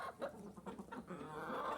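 Hens clucking softly while they feed, with short repeated clucks and murmurs close by, on a farm where the flock also includes turkeys.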